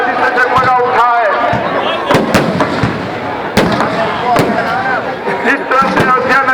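Fireworks bursting at a Raavan Dahan celebration on an open ground in Raipur, with a rapid irregular series of loud cracks and bangs over crowd noise and an excited voice talking throughout.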